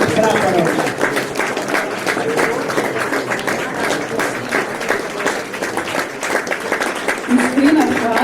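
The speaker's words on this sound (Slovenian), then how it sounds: "vas vabim, da jim zaploskamo v zahvalo za njihovo prisotnost in skrb v ohranjanje borčevskih prihodnih praporov" An audience at a Slovenian anniversary commemoration claps in thanks, a sustained wash of applause with a murmur of voices under it that swells again toward the end.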